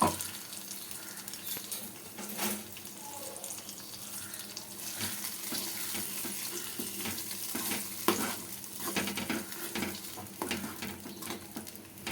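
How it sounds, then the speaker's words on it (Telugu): Wet scraping and stirring of ground peanut chutney in a pan with a soft continuous sizzle, irregular spoon strokes close by and no talking. "ఇప్పుడు ఇది దాంట్లో వేసుకొని కలుపుకోవడమే"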